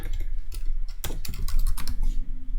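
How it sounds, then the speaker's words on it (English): Fingers type on a computer keyboard, a close run of quick key clicks in uneven bursts while a name is entered on a Wix website builder. "I'll type my name,"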